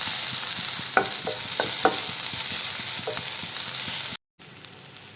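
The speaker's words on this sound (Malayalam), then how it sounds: "കറിവേപ്പില എന്നിവ ചേർത്ത് കൊടുത്തിട്ട് ഒന്നും കൂടി നന്നായിട്ട് ഇളക്കിയെടുക്കാം" Ginger, green chili and curry leaves being stirred as they fry in a pan, with a steady hiss and a few clicks of the spoon scraping the pan, until a brief dropout near the end.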